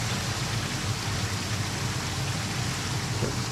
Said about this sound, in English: When the shower's doing its shower thing.